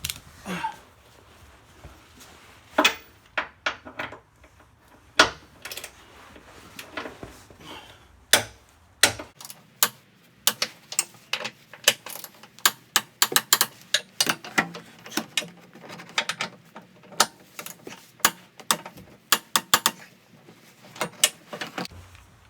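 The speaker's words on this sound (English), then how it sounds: "I've already run them up, pre-torqued them, so just the final torque." Torque wrench clicking through final tightening of trailer hitch bolts to 86 foot-pounds on a 2011 Suzuki Grand Vitara, worked from underneath: sharp metallic clicks and ratchet ticks in irregular bursts, close and fairly loud, no talking.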